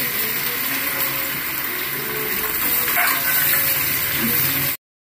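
An egg fries with ginger paste in a pan, giving a continuous loud, close sizzle that stops abruptly at the end.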